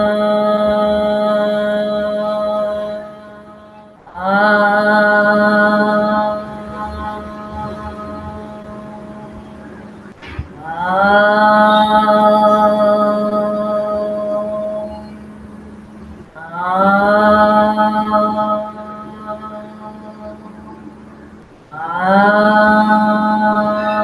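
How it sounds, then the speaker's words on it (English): A group chants Om in long sustained tones, each drawn-out vowel sliding into a humming close, repeated about four times with short breaths between. "we will chant the Om 5 times"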